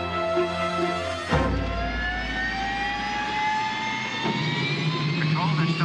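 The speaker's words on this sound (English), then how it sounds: "They're starting the engines. They're firing up." Jet engines on an aircraft start up: after a low hum, a sudden surge, then a loud, sustained whine with rising tones and a steady roar.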